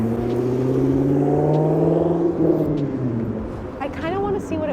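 A car moves along a city street, a steady engine rumble and tire roar that swells and shifts pitch as it passes nearby, with voices talking over it.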